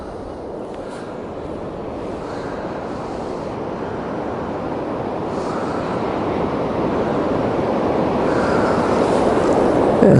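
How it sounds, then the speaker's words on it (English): Sea surf on the shore below Bournemouth West Cliff on a chilly day, a continuous roar of breaking waves that slowly grows louder, with wind over the microphone and no talking. "I can hear individual waves."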